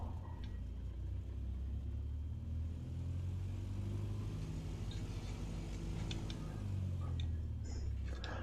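A small plane's engine drones and builds throttle on a runway at the start of a takeoff roll in Microsoft Flight Simulator 2020, a steady low rumble with light ticking, close and continuous.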